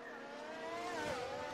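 Two McLaren Formula 1 cars in the F1 23 racing game pull out of the pits together, a steady, loud high-pitched engine drone with rising harmonics and a brief surge near the end.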